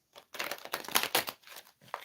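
Quick bursts of shuffling tarot cards, papery riffles and slaps in short uneven clusters, close and fairly quiet.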